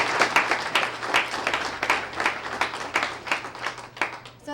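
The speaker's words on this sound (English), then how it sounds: "Let's give them a great round of applause today." A school audience applauds students of the month with dense, steady clapping from many hands that swells and dips in waves throughout, fairly close and with no talk over it.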